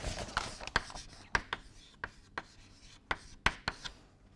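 Chalk or marker taps and strokes sound on a board as an equation is written out during a lecture, a sequence of sharp, irregular clicks with faint scraping between them.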